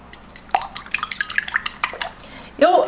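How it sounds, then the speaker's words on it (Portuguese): Two whole eggs are beaten with a utensil in a bowl for breading, a close run of quick, irregular clicks and taps against the dish. A short voiced sound comes at the end. "E aí eu vou bater..."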